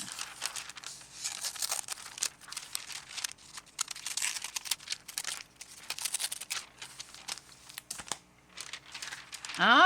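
Scissors cut images out of thin magazine paper, producing close crinkling and snipping sounds in irregular bursts with soft rustles between them.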